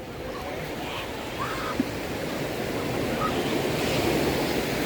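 Ocean surf rolling onto a beach in Cabo, a steady broad wash of breaking waves with some wind noise, continuous and fairly loud throughout with no talking.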